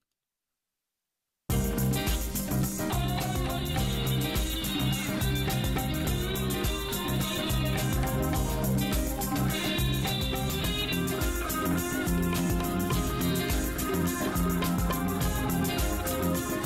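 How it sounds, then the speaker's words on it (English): Synthesizer in GarageBand '11 playing a melodic passage with a sweeping phaser effect, loud and continuous after a brief silence at the start. "Phaser, which sounds like this."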